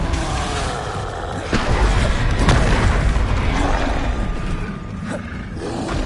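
A Confringo spell explosion in a wizard video game, a deep booming blast that swells loudly through the middle amid rumbling effects, followed by a few sharp cracks and a fading tail.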